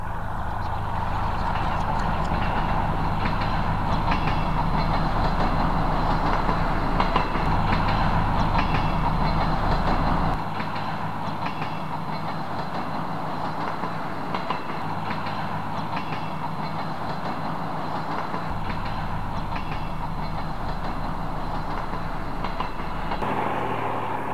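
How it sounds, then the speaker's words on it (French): A Picasso X-3800 diesel railcar runs at 80 km/h on a single-track line, giving a steady engine drone and track rumble with faint rhythmic wheel clicks, heard from on board, with a drop in low rumble partway through. "l'autorail file à 80 km/h sur la voie unique en direction de Moret"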